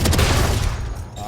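A gun fired rapidly while aiming down sights in Valorant, with hard-to-control recoil: a short, loud, dense burst of shots that fades out within about a second.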